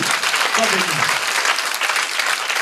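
A church congregation claps and cheers together, a dense, continuous wash of applause with voices mixed in during the first moments.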